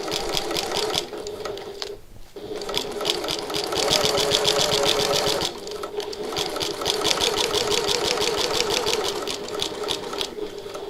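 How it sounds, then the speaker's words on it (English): A sewing machine stitches a quarter-inch seam on a tote bag with a fast, even mechanical chatter, pausing briefly twice before running on steadily and close by. "I'm sewing at 1/4 of an inch"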